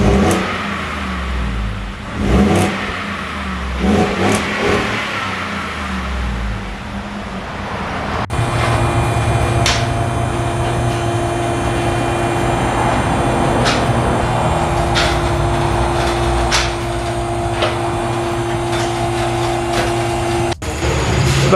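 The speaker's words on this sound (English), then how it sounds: "You guys should know what a stock truck sounds like." Stock Ford F-150 truck exhaust idling and then revving, a loud, sustained engine drone with rising throttle, recorded close up outdoors, no one speaking.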